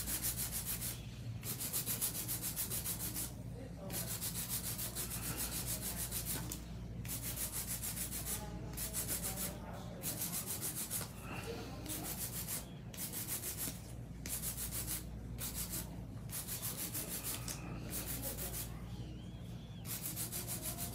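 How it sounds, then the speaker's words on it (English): Fingernails are hand-filed with a nail file, a soft, close scratching rub repeated in quick strokes with short pauses between bursts, faint and steady, with no talk. "Now, just some quick hand filing before I use my cuticle bit."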